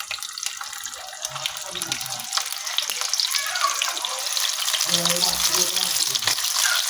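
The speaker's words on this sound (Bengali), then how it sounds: "আমি মাছগুলো এর মধ্যে দিয়ে হালকা করে ভেজে নিচ্ছি" Dried fish frying lightly in hot mustard oil, a steady bright crackling hiss that grows gradually louder, close by, with faint low voices murmuring in the background.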